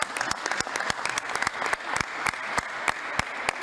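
Applause in the Serbian parliament, a sparse, uneven clapping of a modest group in a large hall, individual claps distinct and fairly close, with no talk.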